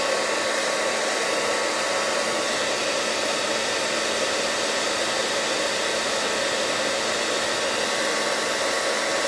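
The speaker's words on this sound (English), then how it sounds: "we're gonna pull out the blow dryer" A blow dryer runs steadily at close range for the whole stretch, a loud continuous airy roar with no talking over it.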